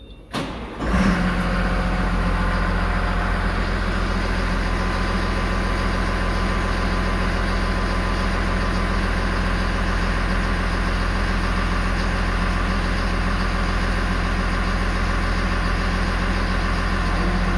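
A Cat IT28G wheel loader's engine catches with a brief start-up burst, then settles into a loud, steady, throbbing idle that runs unbroken and close.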